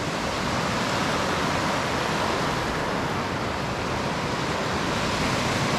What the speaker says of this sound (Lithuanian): Tai va pagaliau jūra.